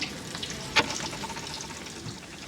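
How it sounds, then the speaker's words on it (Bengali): Cornflour-coated chicken pieces frying in oil for Mongolian chicken bubble and crackle steadily at close range, with one sharp clink of a utensil against the pan. "এই মিনিট পাঁচেক ভেজেই আমি এগুলোকে তুলে নিব"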